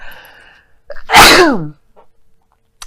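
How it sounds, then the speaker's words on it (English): A single loud sneeze bursts out after a soft intake of breath, close to the microphone, followed by quiet. "I don't know why I'm sneezing so much"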